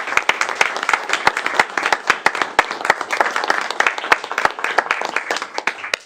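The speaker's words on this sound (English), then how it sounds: "I'd love to give them a round of applause" An audience at a city council meeting applauds veterans who are standing, with dense, steady hand clapping and sharp individual claps that stay loud from start to finish.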